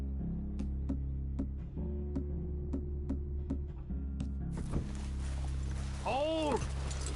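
Horses in Red Dead Redemption 2 clop along at a walk, a regular run of soft hoofbeats heard faintly over low background music, followed by rustling movement and a brief whinny near the end.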